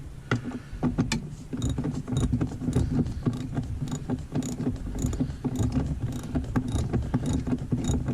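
Rapid metallic ratcheting of a wrench working bolts loose on a 1958 Packard sedan, a steady clicking patter heard close up over a continuous low rumble, with no talking.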